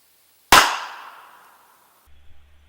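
A single sharp 22LR gunshot from a North American Arms mini revolver cracks out loud and close, its report decaying over about a second and a half before near silence with a faint low rumble.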